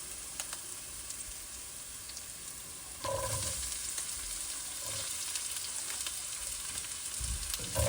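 Onions go into a hot frying pan for shrimp and veggie spring rolls, and a soft sizzle rises suddenly, then a steady low frying hiss with light stirring clatter continues.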